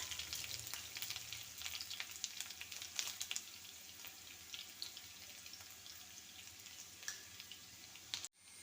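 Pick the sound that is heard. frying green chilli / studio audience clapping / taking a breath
frying green chilli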